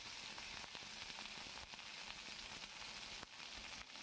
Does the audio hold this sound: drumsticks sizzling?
yes